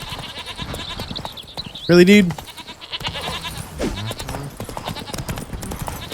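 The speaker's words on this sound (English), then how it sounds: "Excuse me, goats." A loud goat bleat rings out briefly amid a man's chatter and sounds from The Witcher 3, followed by a fainter bleat a moment later.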